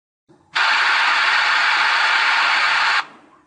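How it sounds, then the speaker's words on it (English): A loud, steady burst of white noise generated in Audacity over part of a song hisses for about two and a half seconds, then cuts off abruptly, with faint murmuring before and after. "The corresponding area is converted to white noise."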